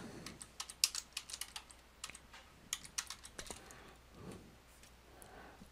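Fingers typing on a computer keyboard, a quick burst of crisp key clicks followed by a few scattered taps, close and quiet with no talk.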